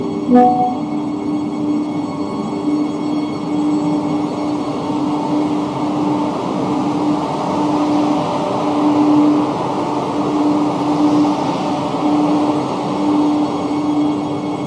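Passenger train running between Rani Kamlapati and New Delhi, a steady rolling rumble throughout with a sustained horn-like tone, loud and continuous without pauses.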